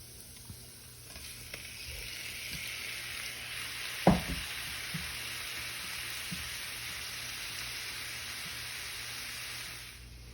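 Shrimp sizzle in a hot pan with garlic for hibachi at home, a steady soft frying hiss with one sharp clatter as the shrimp go in, alone without talk.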